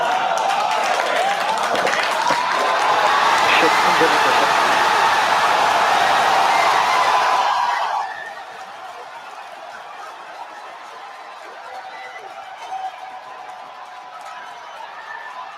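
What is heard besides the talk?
crowd cheering at SpaceX Starship hot staging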